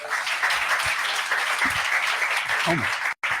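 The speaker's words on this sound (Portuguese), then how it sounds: "Dê um aplauso para Jesus" A church congregation applauds, a dense wash of clapping that stays steady for a few seconds before cutting off abruptly, with voices calling out underneath.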